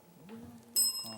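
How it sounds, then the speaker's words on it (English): A bell signals the end of a televised high school quiz match: a quiet low hum, then one sudden bright ring with a ringing tail that fades over a fraction of a second. "And that's the bell."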